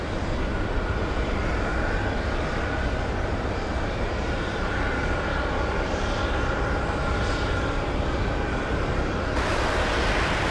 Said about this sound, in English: Let's go over to the 757 takeoff.